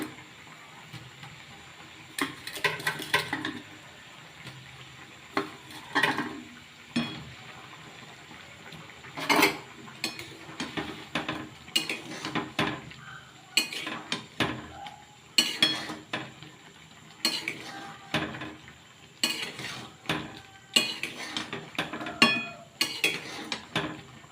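Pakoras dropped into a pan of simmering chili chicken and stirred, giving a run of clinking metal-on-pan taps and scraping at irregular intervals, with light bubbling underneath and no talking.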